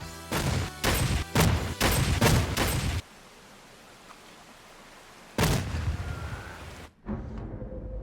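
Video game gunfire and mine explosions in a bursty sequence: a loud run of booming blasts and shots, a lull with faint ambience, then another heavy blast.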